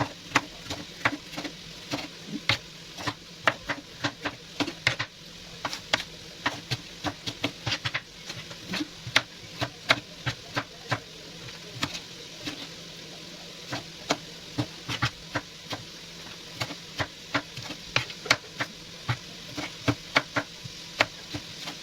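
Remaining vegetables chopped on a board with a knife, a long run of sharp, irregularly spaced cuts, close and clear over a faint background hum.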